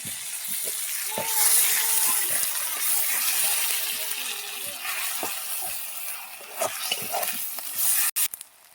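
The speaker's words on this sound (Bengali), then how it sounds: "পেঁয়াজটাকে লাল লাল করে আমি বাদামি কালার করে নেব।" Chopped onions fry in a pan for chicken biryani, browning in a continuous hissing sizzle that stays fairly loud. Faint voice-like sounds run underneath, and a few louder clatters and stirs break in near the end.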